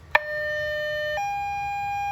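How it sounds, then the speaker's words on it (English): After a sharp click, a two-tone ambulance siren from an aftermarket siren unit on a Toyota HiLux sounds loud and clear, holding one pitch before dropping to a lower steady tone. "That's what the ambulance sounds like."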